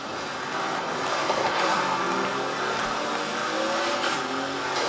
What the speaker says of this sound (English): You can hear their engines roaring when they're behind you and they're approaching you about to pass you.